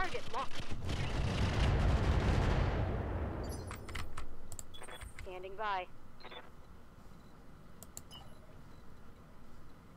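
Gunfire in the tactical shooter game Roguepoint, a loud sustained burst followed by scattered sharper shots and clicks, with game voices heard in the mix.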